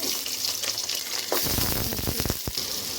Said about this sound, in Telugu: స్టవ్ మీద ఆయిల్ పెట్టానండి మసాలా అంత వేసేస్తున్నాను ఆనియన్స్ అండి